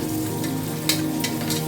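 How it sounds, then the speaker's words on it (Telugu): Dried fenugreek leaves and dried mint leaves fry in hot oil in a pan, giving a steady close sizzle with faint crackles and a few brief stirring scrapes, no voices. "కసూరి మెంతి, డ్రై పుదీనా లీవ్స్ యాడ్ చేసుకొని ఫ్రై చేసుకోవాలి."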